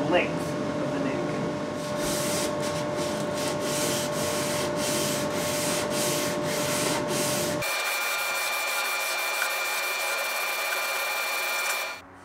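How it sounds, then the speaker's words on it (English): Fine sandpaper rubbed up and down the length of a wooden guitar neck, a steady close scratchy rasp in repeated strokes that runs continuously, turning softer and thinner partway through before stopping. "I can just finish it off using finer sandpaper up and down the whole length of the neck."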